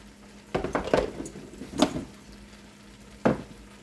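A spiced vegetable mixture for mix veg paratha, with turmeric, coriander-cumin and garam masala, stirred in a pan: a few distinct scraping strokes and a light sizzle, close by, with quiet gaps between.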